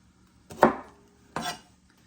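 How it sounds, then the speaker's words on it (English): Brussels sprouts being chopped with a knife on a board, two distinct cuts about a second apart, close and fairly loud with quiet between them. "I'm going to chop these down"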